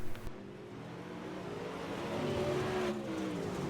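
Super late model race cars at Lanier roar around the track, a steady dense engine drone that builds and rises in pitch as the pack accelerates, loud and sustained with no voices.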